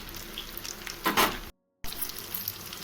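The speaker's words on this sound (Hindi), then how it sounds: "कटलेट डाल दिए हैं फ्राई होने के लिए" Cutlets sizzle in hot oil in a pan, a soft steady crackling hiss with a brief louder burst partway through and a short silent gap.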